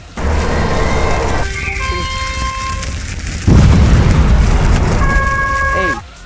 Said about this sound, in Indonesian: Yap, suara ledakan.